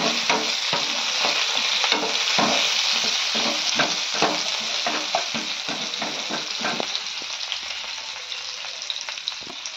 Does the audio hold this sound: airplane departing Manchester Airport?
no